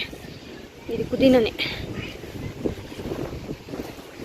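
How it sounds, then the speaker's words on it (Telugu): Strong outdoor wind buffets the microphone in gusty low rumbles near a home garden with mint growing, and a voice speaks briefly over it. "జాస్తి గాలి వాన్ వేరే వచ్చినట్టుంది"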